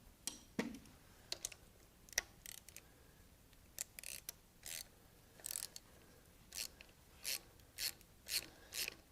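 Socket ratchet loosening a pulley bolt, heard as a string of short, sharp clicking bursts that come faster and more regular toward the end, close by and with no talking.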